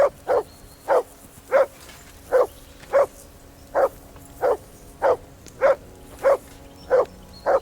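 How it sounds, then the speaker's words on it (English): A dog barks repeatedly in the medieval video game Kingdom Come Deliverance II, about a dozen sharp, evenly spaced woofs roughly every half second, close and loud over a low steady background hum. "Henry, whistle at that mutt of yours to stop barking."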